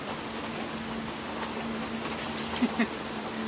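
Steady rain falls outdoors in a soft, continuous wash of patter, with a low hum beneath and a couple of brief faint knocks near the end; no voices.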